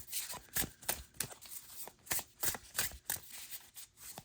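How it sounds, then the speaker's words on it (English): A deck of oracle cards being shuffled by hand, a run of quick riffling bursts at an uneven rhythm, close and fairly quiet with no voices. "So I'm going to shuffle these up"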